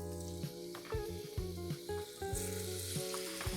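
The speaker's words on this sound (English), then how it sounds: "So we're gonna get this meat all browned up." Ground meat browning in a Presto electric skillet, a steady close sizzle under light background music with occasional scrapes.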